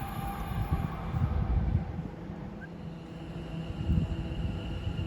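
Two British Rail Class 221 units, 221109 and 221101, pass through Watford Junction on the West Coast Main Line, a steady low rumble and rolling wheel noise heard from some distance, with no one speaking.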